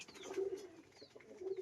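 A pigeon coos softly twice, with the low coos rising through faint background noise.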